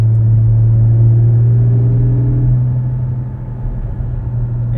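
A 2020 Porsche 718 Cayman GT4 engine hums loud and steady at high revs from inside the cabin, then eases off and settles into a lower rumble.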